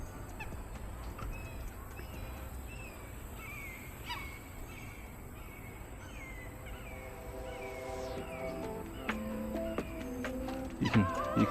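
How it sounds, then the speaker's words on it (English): A common gallinule calls from the water in a park, a series of clucking, chattering cries that start sparse and faint and become louder and more rapid toward the end, amid other outdoor birdsong. "I think that sound is a common gallinule."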